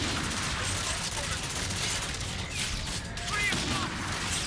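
Sniper rifle fire and battle noise from the video game Call of Duty: Infinite Warfare, heard as a dense, steady wash of gunfire and mechanical clatter with occasional sharper cracks.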